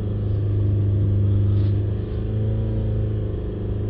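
A Ford Transit MK8 with the 2.0 engine is held at about 3000 RPM, producing a steady loud drone with a slight dip partway through and no talking.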